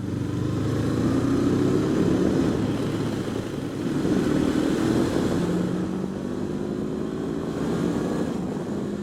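Honda CB500X 2019 500cc motorcycle engine pulled hard from low revs at full throttle, a steady droning roar with rising harmonic tones sweeping up repeatedly, close and continuous with wind noise and no talking.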